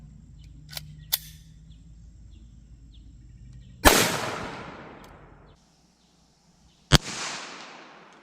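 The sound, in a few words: gunshots from a .22 long rifle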